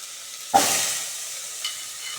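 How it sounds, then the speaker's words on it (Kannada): Cucumber pieces drop into a hot pan of tempering with tomato and green chillies, setting off a sudden loud sizzle that settles into a steady frying hiss, with a second, smaller burst near the end. "ಒಗ್ಗರಣೆ ಈ ಥರ ಬಂದಮೇಲೆ ಇವಾಗ ಸೌತೆಕಾಯಿ ಹಾಕ್ಕೋಬೇಕು"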